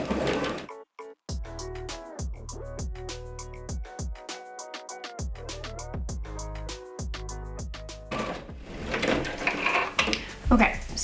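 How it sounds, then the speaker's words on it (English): A sewing machine stitches the seam of a dress strap in several close, steady runs with pauses between, then stops and a person starts talking. "I've just sewed that seam"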